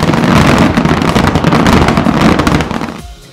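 Loud fireworks crackle and pop densely for about three seconds at the Celebration of Lights, then die away abruptly into quiet.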